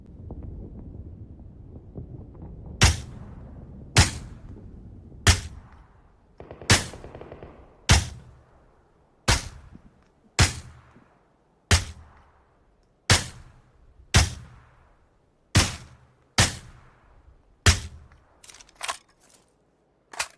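Suppressed M16 rifle fire in a rain-forest battle-royale shooter, a series of about fifteen sharp, evenly spaced single shots with short decaying tails, quickening near the end, over a faint rain-like background hiss and no talk.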